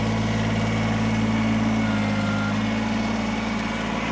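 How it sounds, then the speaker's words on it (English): A Kubota BX23S diesel sub-compact tractor loader backhoe runs with a steady, loud low diesel drone and harmonic hum that stays constant, close up, with no talking. "So, I'm going to fire this thing up."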